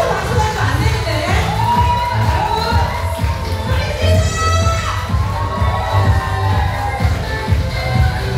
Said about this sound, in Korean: 열정적인 박수로 환호해 주시면